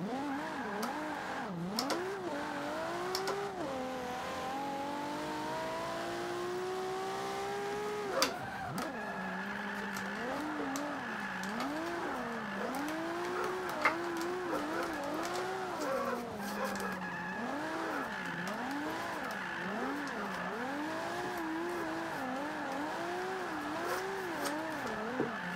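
A BMW E46 drifting in Forza 5 with a tuned setup, engine revving up and down in steady swooping waves with squealing tires, loud and continuous throughout without any talk.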